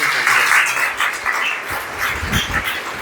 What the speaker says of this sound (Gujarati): એકવાર જોરદાર તાળી મારા અધ્યાપકો માટે.